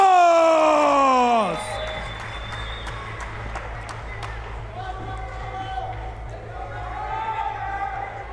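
A big arena crowd cheers and roars steadily through a bantamweight title fight introduction, a loud sustained wash of voices and whoops after an announcer's voice sweeps upward at the start.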